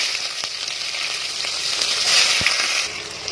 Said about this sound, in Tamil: நல்லா கலர் விட்டுங்க நல்லா ஃப்ரையாக ஆகட்டும்